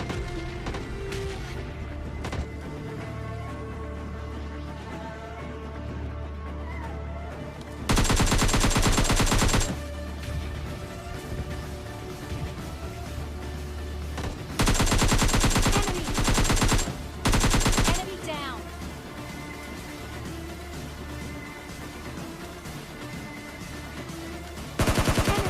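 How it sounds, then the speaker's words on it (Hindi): Gunfire in PUBG Mobile Lite, with several loud bursts of automatic weapon fire that break out in clusters and fade, over a continuous game soundscape. "यहाँ पे कई तरफ से फायरिंग पड़ रही थी"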